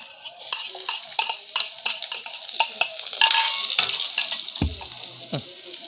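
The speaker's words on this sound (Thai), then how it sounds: "วางกระเทียมลงไปเจียวเลยนะครับ" Stirring and scraping in a pan over a soft sizzle of garlic frying in oil, with clinks of a utensil against metal, close and fairly loud.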